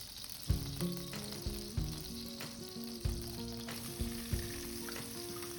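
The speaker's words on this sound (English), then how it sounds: "And stir it for 2 to 3 minutes until the onion light brown" Onions fry in butter in a pan for butter chicken gravy, a steady crackling sizzle broken by repeated scraping stirs and clinks of the utensil, close up with no one speaking.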